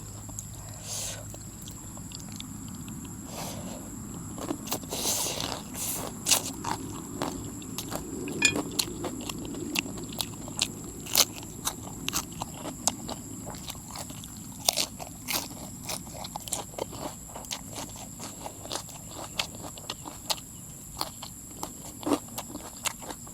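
Crisp fried oyster mushrooms and spicy instant noodles being bitten and chewed, with close, quick crunches repeating steadily over a faint background hum.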